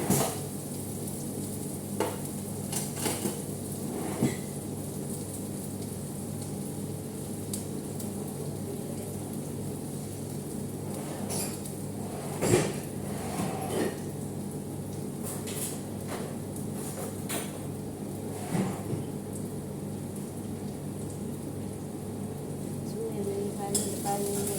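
Onions fry in a pan with a continuous sizzling hiss, broken by occasional scrapes and knocks of a spatula against the metal, steady and fairly close throughout.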